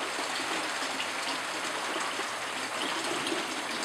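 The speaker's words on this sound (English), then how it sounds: "I'm going to add a little bit more water to get my perfect working solution" Water pours steadily into a container of C-41 color film developer solution, a continuous close rushing trickle with no talk.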